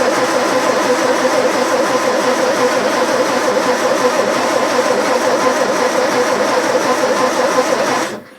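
A 1929 Riley 9 Monaco, freshly rebuilt after two years, cranks on its starter with choke on and a little throttle, giving a steady, loud mechanical whirring churn that runs unbroken for about eight seconds before cutting off.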